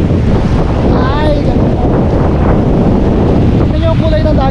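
Strong wind buffets the microphone in a steady roar aboard a boat at sea near an island on a fishing outing, with faint voices briefly rising above it.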